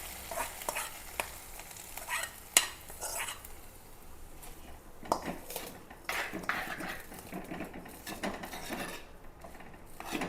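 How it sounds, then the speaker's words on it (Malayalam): Tempering poured over prawns sizzles in a pan while being stirred, with scraping utensil clicks and clatters rising over a soft, steady frying hiss. "നമ്മുടെ താളിപ്പങ്ങാട് ചെമ്മീത്തിലേക്ക് ഇട്ട് കൊടുക്കാം."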